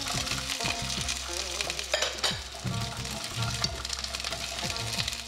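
Thick Korean rice cake sticks fry in grapeseed oil in a pan, a continuous close sizzle with stirring scrapes and light utensil taps, no voices.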